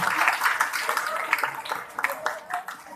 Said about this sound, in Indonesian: Tepuk tangan buat semuanya, buat kita semuanya.